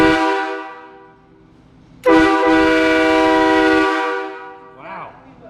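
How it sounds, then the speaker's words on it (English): A train-style air horn mounted on a bus blasts once, loud and close, with a rich stack of steady harmonic tones held for nearly two seconds. Before it, a quieter horn tone fades out, and a voice follows the blast. "That's exactly the train horn you wanted."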